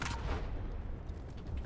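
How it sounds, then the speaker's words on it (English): Gunfire in a multiplayer shooter video game comes from somewhere off in the distance as a series of muffled bursts and booms over roughly a second and a half, with no talking. "Shots coming over there somewhere."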